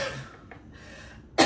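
A single sharp cough bursts out at the end after a moment of quiet breathing.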